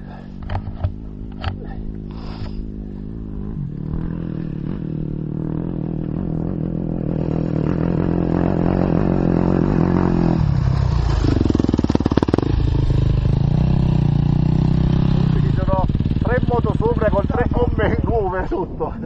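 Enduro motorcycles ride through mud and snow near Caserta, their engines revving and labouring loudly up close, the roar building midway and holding steady, while people talk over the noise.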